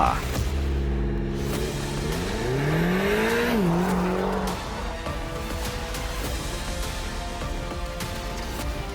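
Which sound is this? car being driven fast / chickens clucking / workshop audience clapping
car being driven fast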